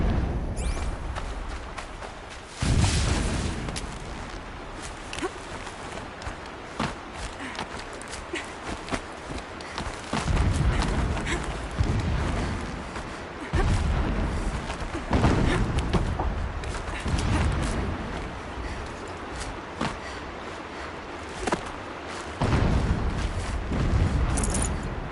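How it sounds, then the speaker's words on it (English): Several deep, rumbling explosions go off at a distance in Horizon Zero Dawn, spaced irregularly across a steady background of game ambience and light thuds. "Explosions in the distance."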